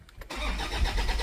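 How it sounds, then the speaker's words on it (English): A 2007 Toyota Fortuner with a loss-of-power and limp-mode fault starts up slowly: a brief quiet crank, then the engine catches and settles into a loud, steady, close-up running rumble with no talk. "It just takes long to start up."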